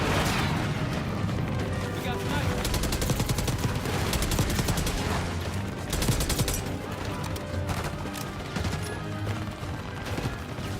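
Heavy battle gunfire in the Call of Duty Black Ops 6 campaign, with dense bursts of automatic fire and booming shots that run loud and continuous, with voices calling out in the chaos.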